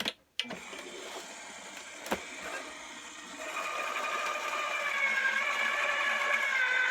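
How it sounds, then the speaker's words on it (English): A Cut 'n' Boss die cutting machine whirs steadily as plates feed through, opening with a sharp clunk and a brief click, then a continuous motor drone that grows a little louder and higher midway, with no talking. "when your machine starts to push it back, just let it come out."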